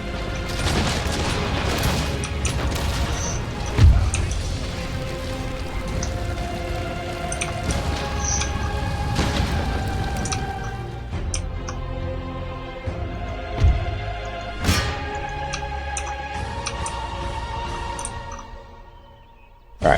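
Musket volley fire from Empire Total War, a video game: dense crackling bursts of gunfire with occasional louder booms, continuing for about twenty seconds and thinning out toward the end.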